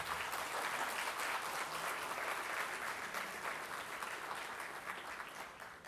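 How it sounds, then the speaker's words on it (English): Applause from the audience at an annual management institute graduation convocation, a dense, steady wash of many hands clapping that holds for about six seconds and slowly eases off toward the end. "a round of applause it is"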